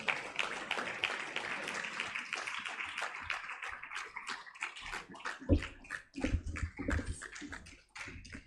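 Audience clapping at a digital transformation festival keynote, a dense steady patter of many hands lasting throughout, loud and close, with sharper individual claps standing out toward the end.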